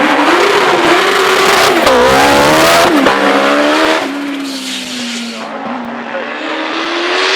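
Supercharged Force Suzuki hillclimb race car at a British speed hillclimb, screaming loudly as it accelerates through rising gear-change sweeps, then dropping to a steadier, quieter drone as it pulls away.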